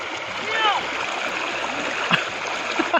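A river rushing through a Himalayan valley in Uttarakhand, a steady broadband wash of water with splashy texture, close and loud, with faint voices and a few brief bird-like chirps above it.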